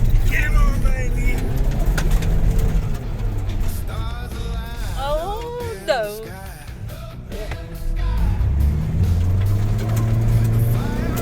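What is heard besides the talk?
vehicle engine revving up steep driveway hauling 2 tons of swamp kauri root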